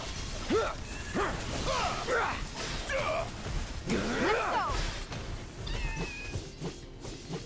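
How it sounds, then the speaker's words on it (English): Several short cat meows, fairly close, scattered among chopping clatter from the game Final Fantasy VII Rebirth and a voice talking in the background. "Cute little cat noises while I'm slicing and dicing"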